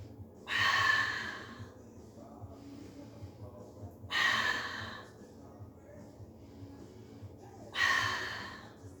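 Pilates breathing on the mat: three slow, deep exhales, each a breathy rush of air a few seconds apart, close and soft against quiet background.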